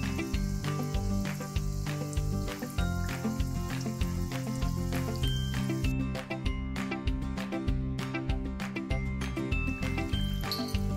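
Unniyappam batter sizzles and crackles in hot oil in an appam pan, a dense, close frying hiss with repeated small pops and clinks throughout.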